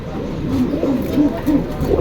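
Pigeons kept with their eggs at a pigeon sale in Jinjira Bazar coo in soft repeated low calls, close by, with a faint murmur of talk behind them.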